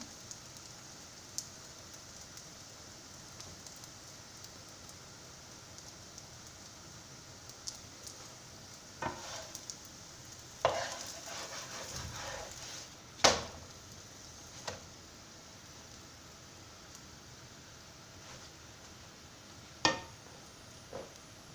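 Gözleme dough filled with potato and cheese frying on a griddle gives a faint, steady rain-like sizzle with scattered sharp pops and crackles.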